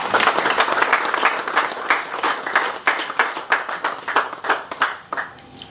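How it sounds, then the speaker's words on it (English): A crowd applauds with sustained clapping that gradually thins out into scattered claps toward the end. "I think this deserves a round of applause."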